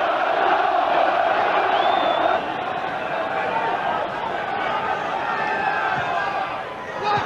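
A football crowd roars in support of Middlesbrough during a 1991–92 match against Manchester City as they win a corner, a steady, dense wash of cheering with a commentator talking over it.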